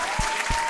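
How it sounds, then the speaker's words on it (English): Two sharp hand claps, close and distinct, roughly a third of a second apart, over a quiet room-tone background during a New York Giants fan celebration. "Clap it up. Clap it up."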